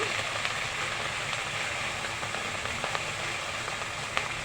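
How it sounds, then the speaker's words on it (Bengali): Ginger paste sizzles steadily in hot mustard oil in a cooking pot, a dense, even frying hiss with small crackles throughout, close and fairly loud with no voices. "আদা বাটা দিচ্ছি"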